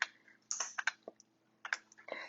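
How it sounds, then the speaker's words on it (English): Several quick bursts of typing on a computer keyboard, close and fairly quiet, with short clusters of clicks separated by brief pauses. "please let me type"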